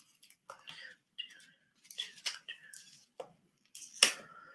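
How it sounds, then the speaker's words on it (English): Scissors snip through paper for a junk journal in a series of short, crisp cuts with brief pauses between them, close and clear in an otherwise quiet room. "you have your scissors"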